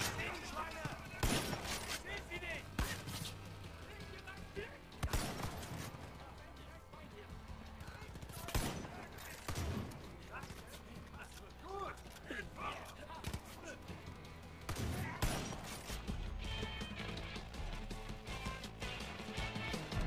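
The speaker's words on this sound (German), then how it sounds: "Von wo werde ich beschossen, Nachbarn?" Bursts of in-game gunfire in Far Cry 5 strike at the player in irregular loud volleys, sharp cracks scattered among busy action noise and a running voice.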